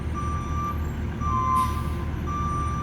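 A truck backing up on a driveway job site gives off repeated backup beeps over a low, steady diesel engine rumble, with a brief hiss of air partway through.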